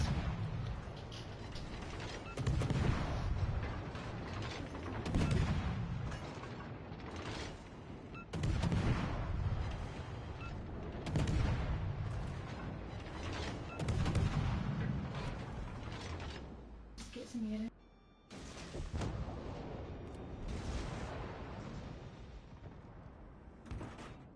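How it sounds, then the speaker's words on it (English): Naval gunfire from warships in World of Warships Legends, heavy booming salvos recurring every few seconds amid rumbling battle noise, loud and continuous with a brief quiet gap near the end. "The gunfire's nice."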